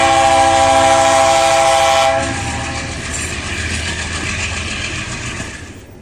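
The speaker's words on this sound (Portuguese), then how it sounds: "Eu esperei ele buzinar aqui. O trenzão chegou." Freight locomotives arrive on the Perdões horseshoe curve, a loud sustained multi-tone horn blast for about two seconds, then the heavy rumble and rhythmic clatter of rolling wagons continuing close by.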